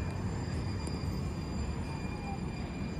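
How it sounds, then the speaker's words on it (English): A light rail train arrives at Beaverton Transit Center, a low steady rumble of wheels with a faint high electrical whine, moderately near and without talk. "Here it is. The Beaverton Transit Center train."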